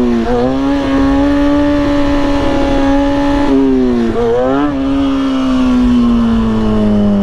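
A motorcycle engine braking through a wheelie, loud and close, its droning tone holding steady, dipping sharply in pitch twice and then recovering as the throttle closes.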